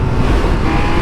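Loud, close engine roar of a Triumph Speed Triple RX motorcycle held high at the rev limiter, a dense, steady buzzing blare filling the whole brief moment with no voices.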